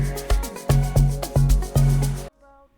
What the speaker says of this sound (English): So what you're hearing right now is the tracking session.